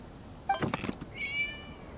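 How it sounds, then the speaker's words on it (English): A cat meows in the Genshin Impact video game during the Irodori Festival, with a short burst of rustling followed by a single drawn-out, thin meow at moderate volume. "It was just a cat."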